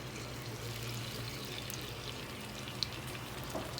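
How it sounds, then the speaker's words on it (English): Sofrito being added to a pot of hot oil for Dominican stewed eggplant, a steady soft sizzling, pouring hiss with faint crackles, fairly close and even throughout without talking. "We're gonna add our sofrito."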